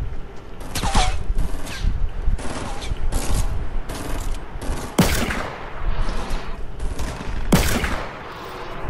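Repeated bursts of automatic gunfire in a building-style shooter video game, with loud clustered volleys separated by brief gaps and two especially sharp, bright blasts later on.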